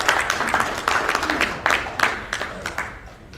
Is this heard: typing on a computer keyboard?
no